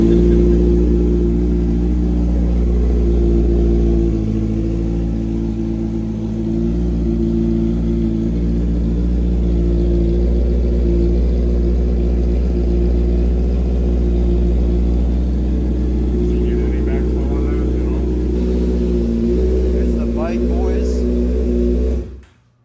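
A motorcycle engine runs steadily at close range, a loud, even, low rumble that holds for the whole stretch and then cuts off abruptly at the end.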